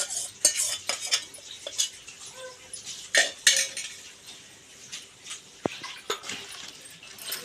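Chicken is mixed with yogurt in a pot for biryani. A spoon scrapes and clinks against the metal in irregular bursts of stirring, close and fairly quiet, with no voices.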